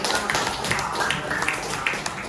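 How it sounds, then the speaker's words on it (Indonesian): Short burst of hand clapping from pupils in a classroom, close and fairly loud with uneven individual claps over a couple of seconds. "Tepuk tangan dong buat Adinda"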